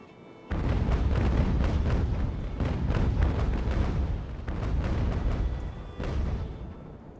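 Sailing ship cannons firing in the Ultimate Admiral: Age of Sail naval battle game, a dense rolling barrage of deep booms that continues steadily and fades briefly toward the end.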